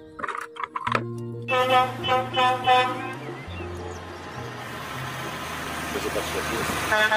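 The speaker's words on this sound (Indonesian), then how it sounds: "yang ini mobil truk kontainer teman-teman." A toy container truck plays a tonal electronic tune with stepped pitches, close and fairly loud, followed by a sustained noisy hum; no one talks over it.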